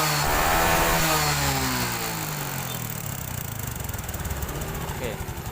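A Honda Supra 125 motorcycle engine, which stalls often and has a CDI unit, is revved close by: a loud rising and falling roar that settles into a steady pulsing idle, with someone talking over it.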